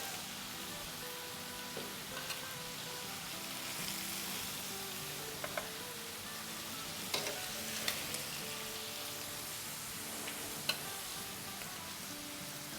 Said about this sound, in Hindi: थोड़े से टमाटो सॉफ्ट हो और लहसुन हमारा भुन जाए, जब तक इसे हमें फ्राई करना है